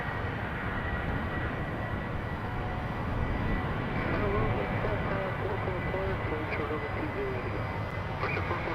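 An airplane at the start of its takeoff run on runway 20, a steady broadband engine roar that swells slightly midway, with faint overlapping radio voices in the background.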